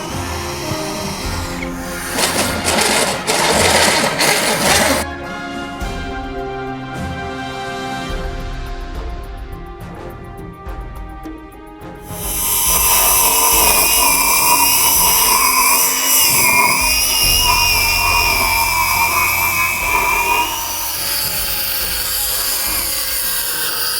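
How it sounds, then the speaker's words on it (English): Loud power drilling with a hole saw whines steadily, drops into a lower grinding stretch, then surges back into a sustained high-pitched cutting whine through the rest. "So I'm gonna start drilling the holes here. I got the hole saw"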